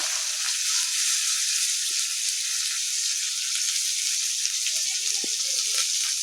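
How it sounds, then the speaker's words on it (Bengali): Chopped onions hit hot oil already tempered with cumin seeds, bay leaf and dried chilli, giving a steady, close hissing sizzle with a few faint clinks and stirring touches. "এতে আমি দিয়ে দেবো কেটে রাখা পেঁয়াজ।"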